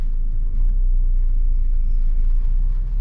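Car driving along a road on the way to an animal rescue call, heard from inside as a steady low engine and road rumble without pause.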